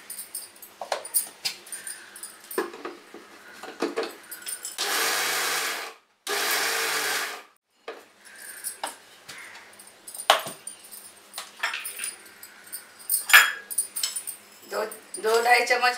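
An electric kitchen grinder mills dried dates (kharik) for Janmashtami panjiri prasad in two loud whirring bursts of about a second and a half each, surrounded by close clinks and rattles of jars and utensils.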